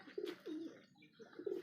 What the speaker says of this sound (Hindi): ये कबूतर दाना खा रहे हैं।